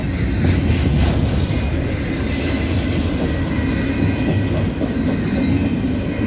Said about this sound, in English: train slowing down. He's entering the yard soon.